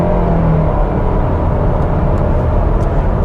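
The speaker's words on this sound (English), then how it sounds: "you can hear a little bit of that whine of the CVT" A 2021 Nissan Rogue SL's CVT transmission gives off a steady whine while driving, blended into a loud, constant bed of road and engine noise with no talking over it.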